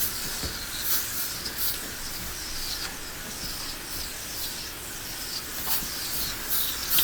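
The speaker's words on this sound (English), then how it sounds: "So we're gonna spray from this side to this side." Cleaner sprayed from a bottle across the front seats of a 1985 Cutlass, steady close hissing with periodic bursts of squirts over about seven seconds.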